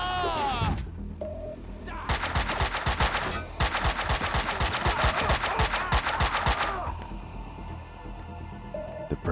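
Video game gunfire from Max Payne 2: a dense, rapid, machine-gun-like burst of loud shots lasting several seconds. A shout comes before it, and a quieter tail of game ambience follows.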